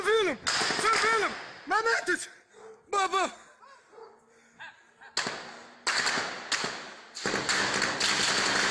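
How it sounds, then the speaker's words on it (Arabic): Gunfire aimed toward a cameraman during the attack in Tunisia: sharp, close cracks and bursts mixed with loud shouting voices and broadband commotion. "رصاص أطلق باتجاه المصور"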